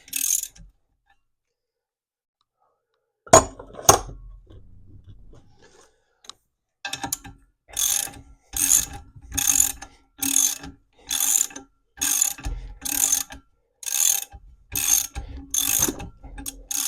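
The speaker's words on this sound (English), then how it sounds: "That's what a breaker bar is for. So you can break things loose" Ratchet clicking while a breaker bar and ratchet loosen bolts on a Gravely circular saw attachment under repair; a couple of sharp knocks, then a steady run of loud, evenly spaced ratcheting bursts close by.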